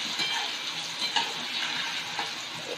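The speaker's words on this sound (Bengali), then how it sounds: "এখানে আমি সবজিগুলো হাফ ফ্রাই করব, ডিপ ফ্রাই একদমই করা যাবে না।" Vegetables half-frying in a pan for soya chilli, giving a steady close-up sizzle with a few brief louder crackles and light stirring, and no talk over it.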